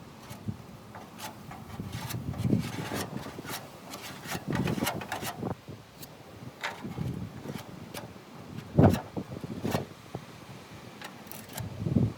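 Intermittent scraping and rubbing of body filler being spread in a car's engine compartment during a restoration, close-up irregular strokes with small knocks and pauses between them.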